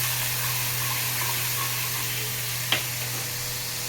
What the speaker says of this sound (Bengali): মশলাটাকে কষিয়ে নিই